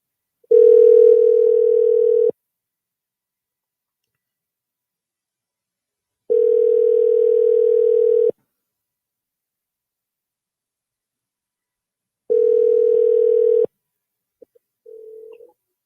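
Repeated telephone ringback tones on a caller's line while the call connects, three long steady beeps separated by silence, followed by a brief faint click and a short tone at the end.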